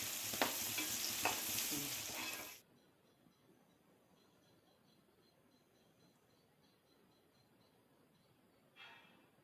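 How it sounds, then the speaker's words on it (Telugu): Tomato chutney ingredients frying on a low flame, opening with a loud burst of stirring and sizzling, then settling into a faint, steady crackle of oil with a short swell near the end. "సిమ్లో పెట్టుకొని వేయించుకోవాలి వీటన్నిటిని"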